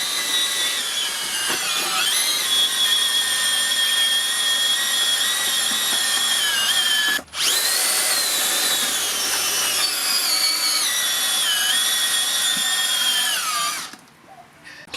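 A Makita 40V right angle drill bores into wet clay with a loud, sustained high whine that dips briefly under load partway through, then cuts off near the end.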